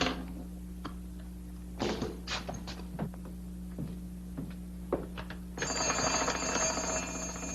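An old telephone in a 1949 western is used to place a call: a run of sharp clicks and taps, then a steady, loud ringing buzz over the last couple of seconds.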